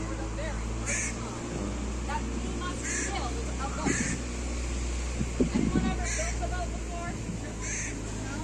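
Several crows caw in a repeated, spaced pattern at mid distance over a steady background rumble in Skagway, Alaska, with a voice speaking briefly in between.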